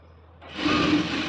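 Sewing machine stitching pleats into a school uniform skirt, starting up after a quiet moment and running in a brief steady whirring burst close by.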